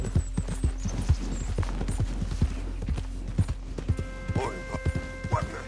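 Horse hooves clop in a quick, steady rhythm while riding in the Red Dead Redemption 2 video game, close and clear, with a brief voice heard toward the end.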